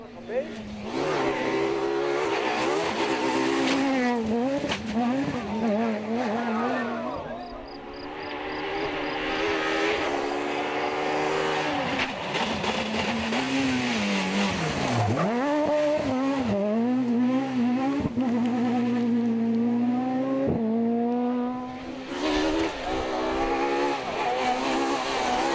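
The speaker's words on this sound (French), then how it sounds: "la victoire va se jouer entre les 2 Clio de Jean-Joseph et Tirabassi." Renault Clio rally cars racing on a special stage in the 2003 French S1600 championship, with loud, continuous engine roar, rising and falling revs through gear changes, heard close and dominant throughout.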